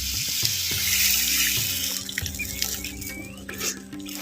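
Tamarind water pours and splashes steadily into a pan of masala up close, a continuous watery gush that tapers off slightly toward the end, while cooking a small-onion puli kara kulambu.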